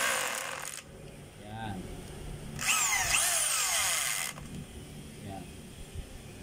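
A DeWalt D25032 rotary hammer runs in two short bursts, one at the very start and a longer one a few seconds later, each a harsh, whining mechanical chatter, with quieter handling noises in between.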